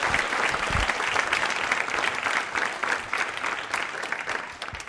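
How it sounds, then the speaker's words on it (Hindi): A school audience at a World Diabetes Day quiz show applauds a doctor, with steady, full clapping from many hands throughout and no talk. "तालियां जोरों से बजाइए डॉक्टर साहब के लिए जोरदार तरीके से"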